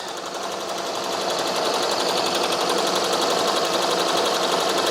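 A Ricoma embroidery machine stitches steadily over a fabric seam, a fast, even mechanical chatter that holds loud and close without pause and with no talking.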